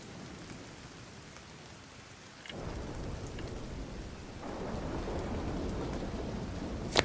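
Steady rain pours during a storm in the video game The Division, with low thunder rolling underneath and the downpour growing heavier partway through, all without voices.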